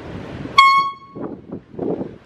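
A Honky Horn toy horn gives one sharp, bright honk outdoors lasting about half a second, loud and close, followed by ambient rumble and faint outdoor noise.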